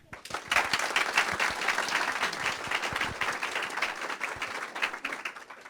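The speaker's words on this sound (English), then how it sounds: "give them a round of applause" Audience applause after thanks to staff who help run a leadership program kickoff, a dense, steady wash of many hands clapping for several seconds, fairly loud and close, with no talk over it.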